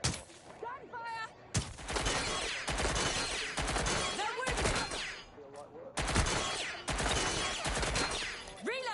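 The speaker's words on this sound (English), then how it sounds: "Gunfire!" Heavy video-game gunfire in Watch Dogs, loud rapid bursts and repeated single shots packed across the clip, with shouting voices calling out over the shooting.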